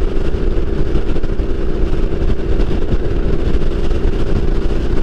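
A British 900cc motorcycle being ridden, its engine a steady loud drone with constant rumble and wind noise throughout, no talking.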